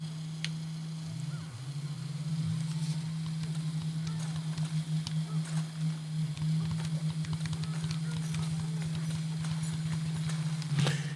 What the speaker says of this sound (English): what you're hearing right now is the rumble of the controller